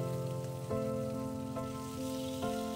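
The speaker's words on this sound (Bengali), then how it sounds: "সেগুলোকেও আমি ভেজে নেব" Katla fish belly pieces frying in hot oil, a steady crackling hiss like light rain, with a few soft ringing metallic knocks from the pan, close and moderate.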